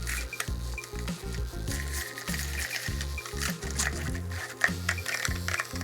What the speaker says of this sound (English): All I do is I get a little frother whisk, and we're just gonna go ahead and mix this up.